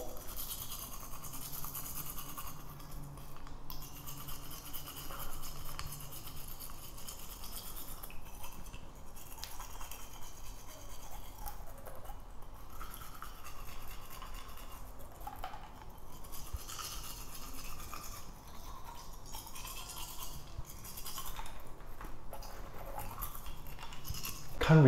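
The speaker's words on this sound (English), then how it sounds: "Can't really feel the toothbrush." Steady scratchy bristle brushing from a Colgate Wisp Max Fresh disposable mini toothbrush working over teeth, close and continuous for the whole stretch with no talking.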